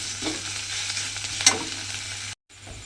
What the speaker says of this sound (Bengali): আদা রসুনটা একটু তেলের মধ্যে ভালোভাবে নেড়ে নেব